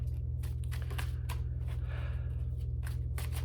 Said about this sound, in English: She recommends that we cut the deck, shuffle.